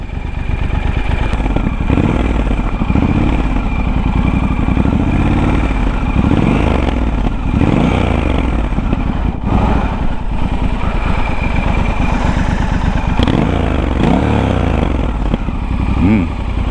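A Triumph Scrambler 1200 XE motorcycle engine idles steadily and loudly close by, with a throaty rumble and occasional blips of revving, while someone talks over it.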